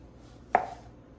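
A Cutco knife makes a single crisp chop through food onto a cutting board, close and sharp, with quiet room tone before and after.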